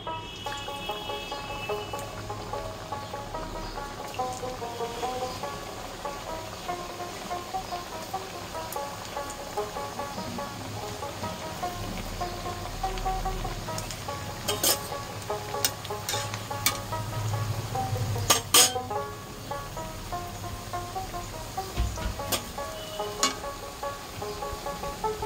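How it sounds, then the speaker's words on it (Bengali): Thekua dough pieces fry in a mix of ghee and oil over a very low flame, giving a steady, soft crackling sizzle that runs throughout with faint occasional pops and stirring scrapes, close and even in level. "তেলটা গরম হয়ে গেছে, একদম লো ফ্লেম করে আমি ঠেকুয়াগুলো ভেজে নেব।"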